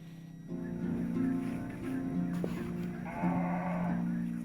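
Cattle of Fulani herders low close by: a long, loud moo starts after a half-second pause, followed by a second, slightly higher moo, with faint rustling behind.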